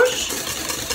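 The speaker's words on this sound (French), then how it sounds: "Je mélange." Birthday cake batter with oil is stirred in a bowl, a brief, steady swishing and scraping that lasts about a second with no speech.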